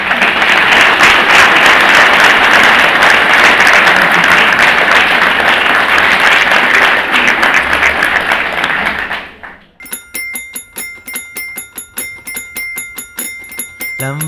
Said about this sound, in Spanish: no me queda más que pedirle un fuerte aplauso para ustedes